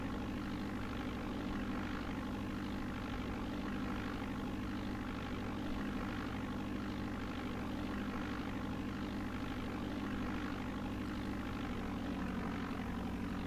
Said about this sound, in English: there's a plane about ready to take off